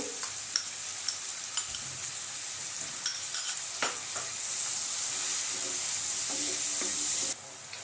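Three large finely chopped onions sauté in oil in a pan for butter paneer bhurji, with sharp spoon-against-pan scrapes and taps over a steady sizzle that swells louder midway.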